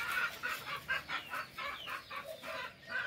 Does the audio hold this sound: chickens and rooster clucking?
yes